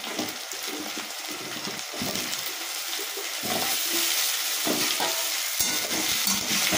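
Potatoes and onions frying together in a pan, a bright continuous sizzle broken by repeated scraping stirs, close and steady.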